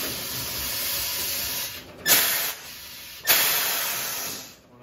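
An old-school FMC Signature Series 7600 tire changing machine runs with a steady, close pneumatic hiss, broken by two sharp louder air bursts before the hiss fades out.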